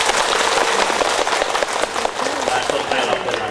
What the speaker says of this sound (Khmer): សូមចាត់ឲ្យអបអរសាទរ